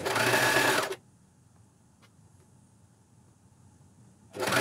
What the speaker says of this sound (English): Again, we are cover stitching close to the edge.